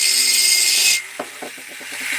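A hammer strikes in a quick run of light, evenly spaced taps after a burst of loud, harsh tool noise.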